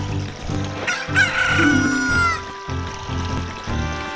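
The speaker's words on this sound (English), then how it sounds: "here's our chicken" A chicken crows loudly in Zelda: Ocarina of Time. One drawn-out cock-a-doodle-doo rises over a repeating rhythmic game backdrop.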